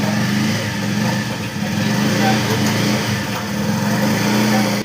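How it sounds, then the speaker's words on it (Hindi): A Bajaj Pulsar BS6 motorcycle engine runs steadily in second gear, a continuous close low drone with slight rises and dips in pace. "सेकंड गियर को डाला, अभी बाइक चल रहा है"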